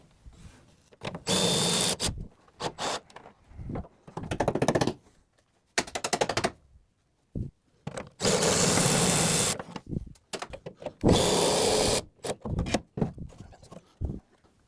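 Makita cordless impact driver or ratchet whirring in repeated loud bursts as it spins bolts off a Mk1 Ford Fiesta during rear wheel arch removal, with short pauses between runs.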